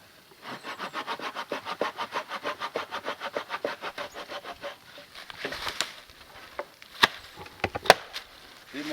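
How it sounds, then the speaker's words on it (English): A hand saw cuts into a split piece of wood with about twenty quick, rhythmic back-and-forth strokes, close and fairly loud. The strokes then give way to scattered scraping and sharp knocks. "Try sawing a little further into it."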